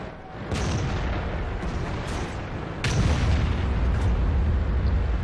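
World of Tanks gameplay with an ISU tank destroyer and tier 8 heavy tanks: two heavy cannon shots boom out about two seconds apart over a constant rumbling engine bed, loud and close.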